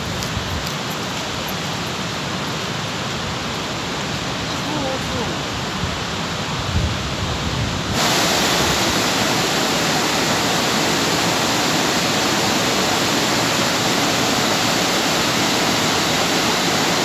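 Waterfall cascades at Blenheim Palace pour in a steady, loud broadband rush that swells noticeably louder about halfway through and holds constant to the end, with no clear talk over it.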